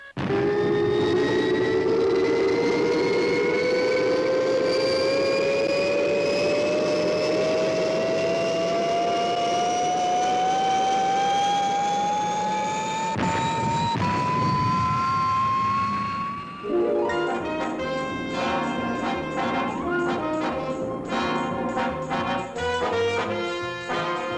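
Rising roar of a spaceship liftoff effect from a 1960s puppet sci-fi series, a loud engine whine climbing steadily in pitch for about sixteen seconds, then giving way to dense electronic music.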